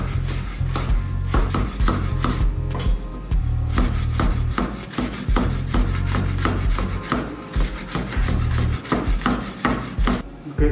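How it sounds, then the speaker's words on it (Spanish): A knife chops seeded pepper strips into small cubes on a cutting board, giving fast, steady, close rhythmic knocks that continue without pause, with no talking. "vamos a cortarlo así a lo largo o en julianas, como normalmente se le dice, y luego vamos a proceder a cortarlos en cubos"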